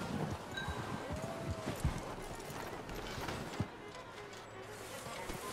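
Horse hooves clip-clop steadily in Red Dead Redemption 2, close and clear over game ambience, with a few louder hoof strikes and a possible faint whinny.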